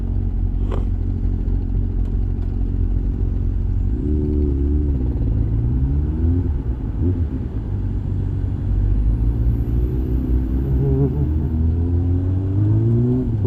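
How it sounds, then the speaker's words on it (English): A Mercedes bus in city traffic heard from a motorcycle on the commute, with a loud, constant low engine rumble and the rising and falling drone of vehicles passing close by, and no speech. "Mercedes bus."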